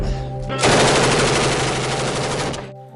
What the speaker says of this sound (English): We're taking heavy fire from...